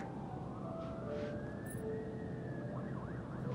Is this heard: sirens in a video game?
yes